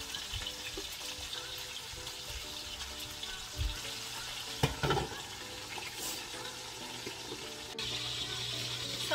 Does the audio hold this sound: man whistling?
no